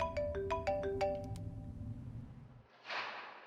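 A phone ringtone plays a bright, repeating melody of stacked tones in steady bursts, then cuts off and gives way to a short hissing rush.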